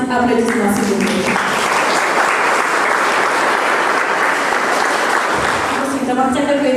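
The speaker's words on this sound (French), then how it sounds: "Kiné, Maëva, je voudrais entendre un plus grand applaudissement, s'il vous plaît." Crowd applause at a school end-of-year party fills the room, loud dense clapping that swells and holds for several seconds, with a voice speaking briefly at the start and end.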